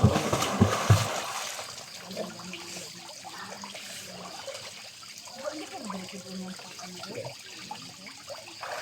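Tap water runs steadily at a solar-powered glamping site, a continuous trickling stream with a louder gush at the start, while people talk nearby.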